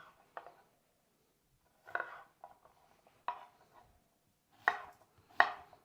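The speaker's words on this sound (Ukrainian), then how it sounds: "Зараз будемо нарізати огірок. Можна кубіком, можна не кубіком" A knife chops a cucumber into cubes on a cutting board for a protein salad, giving about six sharp, close, irregular chops with short pauses between them and no talking.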